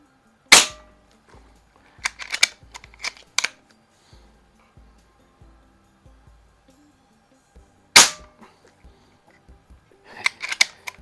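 A Hatsan Flash Pup air rifle fires pellets in two sharp, loud cracks several seconds apart. Between the shots come quieter clicks and clatter of handling and loading.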